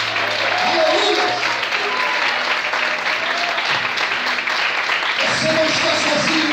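A church congregation applauds loudly and continuously during an evening service, a dense wash of clapping with voices calling out over it.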